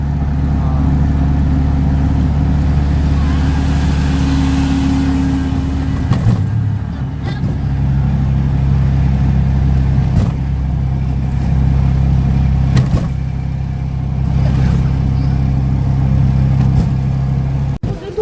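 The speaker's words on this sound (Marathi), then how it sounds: "आता रिक्षाजवळ आलोय रिक्षात बसतोय आणि निघतोय" A CNG auto rickshaw engine runs steadily and close by, with a low, even drone and some clatter as it pulls away and keeps going.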